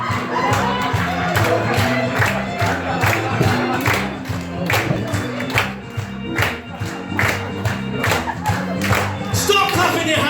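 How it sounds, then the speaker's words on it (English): A comedy club crowd claps along in a steady rhythmic beat, loud and close, with cheering voices and shouts mixed through the clapping throughout. "Clap your hands!"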